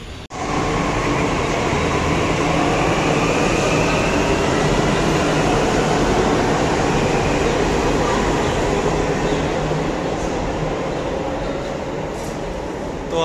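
A Delhi Metro elevated train rumbles along steadily from inside the car, a loud continuous roar of wheels and motion with faint voices underneath.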